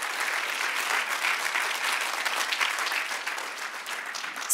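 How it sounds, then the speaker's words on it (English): Church audience applause during a testimony service: a loud, dense, continuous round of clapping that holds steady for several seconds with no talk over it. "come on, give a hand of applause."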